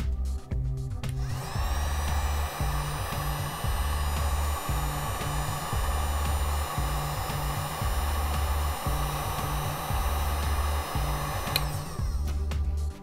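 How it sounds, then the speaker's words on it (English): A hair dryer runs continuously to heat a vehicle decal and soften its adhesive, a steady blowing whir with a low repeating pulse, starting and stopping at the edges. "The heat of the hairdryer will melt the adhesive and allow the decal to stick once again."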